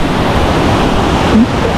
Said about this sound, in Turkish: Nehir akıyor bayağı arkadaşlar.